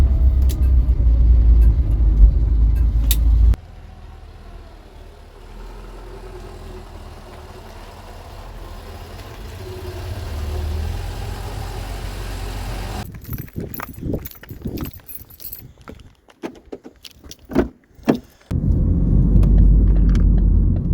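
A Vauxhall Viva with a suspected carburettor setup fault rumbles and idles close by. The engine note drops and surges unevenly, with sputtering bursts and hesitation before it picks back up, and no voices are heard.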